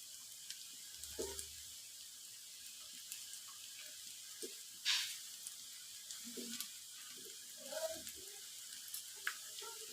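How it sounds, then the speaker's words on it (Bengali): Puffed rice and onion fritters fry in hot oil, giving a soft, steady sizzle with a few louder bubbling bursts and light clinks of a utensil, close by with no talking. "লাল লাল করে ভাজতে হবে"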